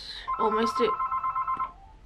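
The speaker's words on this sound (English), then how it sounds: "Sorry about the phone." A telephone rings indoors with a steady pulsing electronic tone repeating several times, partly under a woman's speech.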